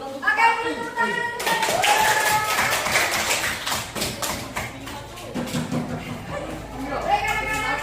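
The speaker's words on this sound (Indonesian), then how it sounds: "Oke, tepuk tangan." A classroom of schoolchildren claps and applauds together, a dense burst of hand claps mixed with chatter and voices that fills most of the moment, loud and close throughout.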